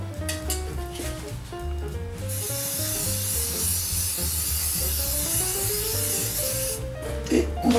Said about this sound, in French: Je vais graisser le premier moule.